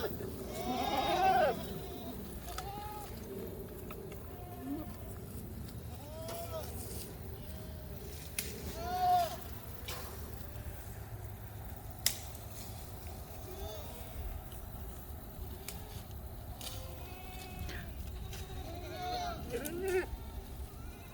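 Goats on a goat farm bleating repeatedly at varied distances, some close and loud, others fainter, with people talking throughout.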